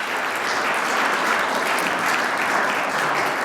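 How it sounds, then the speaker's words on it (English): A conference audience at a Nordic economic policy event gives sustained applause, a thick, even roar of many hands with no pauses from start to finish. "just keep that applause going for Ramin Nisadi"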